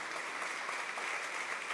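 Church congregation applauding during a celebration service, a soft, even patter of many hands clapping at a distance, continuous and unbroken.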